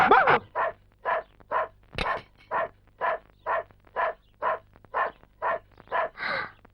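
Repeated dog barks, about fourteen in a regular rhythm, loud and close, with a brief whine at the start and little else around them.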